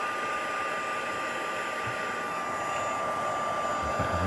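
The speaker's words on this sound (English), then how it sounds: "I'm hoping that the heat gun won't cause too much" A heat gun blows steadily on Cosmic Shimmer Fluffy Snow, a constant loud whooshing hiss with a thin high whine, close and unbroken, with no voices over it.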